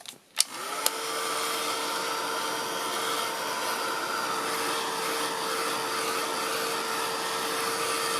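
A hair dryer blasts to dry a first layer of paint for a bubble wrap background, starting after a couple of clicks and then holding a steady, loud whooshing whir.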